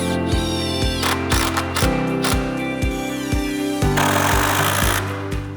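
A power screwdriver drives screws into Harvia UTU indoor sauna wall panels through pre-drilled holes, a loud, close, steady motor whine broken by rhythmic bursts as each screw seats.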